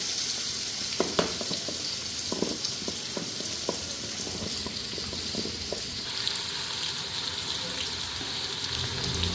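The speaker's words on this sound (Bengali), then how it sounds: "আর এদিকে জিরা সম্বার দিয়া আলুটাও ফ্রাই করে নিতেছি" Potatoes fry in hot oil with cumin seeds, ground cumin, chili and turmeric, giving a steady close sizzle with occasional stirring clinks and scrapes.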